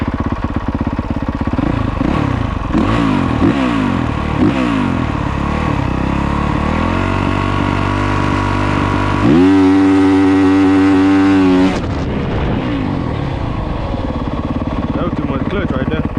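Dirt bike engine revving hard for a launch, a loud continuous roar with rising and falling pitch sweeps, a sharp high-revving burst near the end, then settling back to a rough idle.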